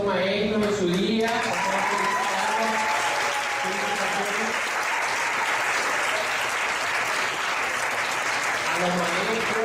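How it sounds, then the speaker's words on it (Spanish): A church congregation gives a strong round of applause for the Bible school teachers, sustained clapping from many hands while voices speak and cheer over it at the start and end. "Hoy quiero que le demos un fuerte aplauso a todos los maestros en su día"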